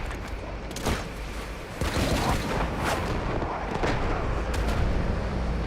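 Cannon fire in the Delta Force video game, a run of heavy booms and blasts over a continuous loud rumble of battle noise, with some faint voice underneath.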